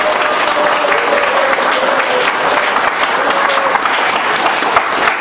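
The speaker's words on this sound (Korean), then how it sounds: "여러분 큰 박수로" A crowd at a Korean political rally applauds loudly and continuously, thick clapping with a faint background tone running under it.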